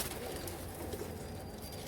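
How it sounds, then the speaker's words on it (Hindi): A Jaag pigeon coos softly in a brief, faint burst close by, with no other sounds around it. "ये देखो जाग कबूतर,"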